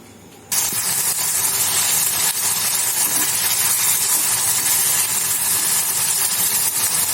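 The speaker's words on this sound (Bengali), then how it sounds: "চিকেনটা ভালোভাবে ফ্রাই করে নেব।" Marinated chicken frying in a pan, a steady close sizzling hiss that starts abruptly and holds loud and even to the end.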